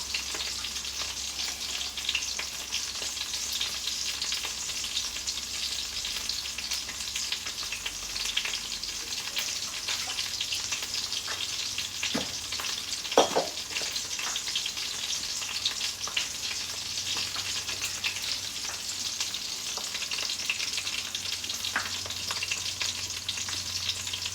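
Sausages fry in a hot pan with a continuous, even crackling sizzle that holds steady throughout, marked by a couple of brief louder pops and no talking.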